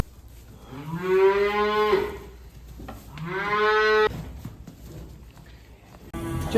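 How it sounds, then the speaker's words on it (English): Heifers moo while being moved down to a shed on a farm, two long, loud, nearby calls with quieter shuffling and farmyard noise between them. "now it's time to move the heifers down"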